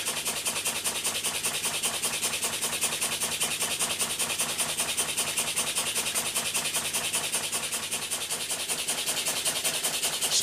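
Schoenner Lipsia toy steam engine running warm and picking up speed, producing a continuous hissing, rapid chuffing rush at an even, steady pace, loud and close, with no talking.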